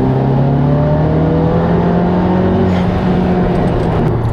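Ford Focus RS fitted with a TTR aluminum intake manifold pulls hard in third gear from around 3,500 RPM, a loud, steady engine note rising in pitch throughout with no talk.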